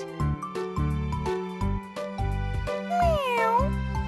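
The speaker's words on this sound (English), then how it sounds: "Meow." A cartoon cat meows in a children's ABC alphabet cartoon, the repeated synthetic meow calls riding over a steady, loud musical backing track with no other voices.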